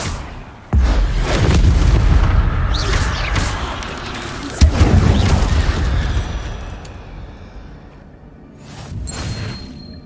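Spell explosions in a Harry Potter video game: a sudden heavy boom followed by sustained rumbling blasts, a second sharp impact midway, then whooshing effects fading out, loud and close.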